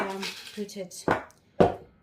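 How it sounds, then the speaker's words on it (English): Cashew nuts are dropped into a blender jar in two sharp, clattering pours, close by. A brief murmur of voice comes just before them. "I'm going to be putting some cashew nuts in the blender"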